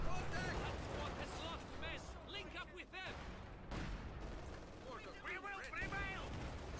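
Mortar blasts and gunfire in Company of Heroes 2 fill a dense, continuous battle din, with someone speaking over the fighting.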